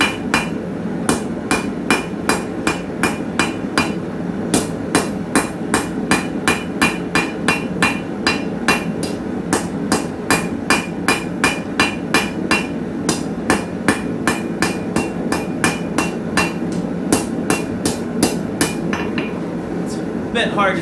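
A blacksmith hammers a hot steel leaf on an anvil, sending out sharp, ringing metallic strikes in a steady, even rhythm. The blows continue for about twenty seconds and sound close and loud.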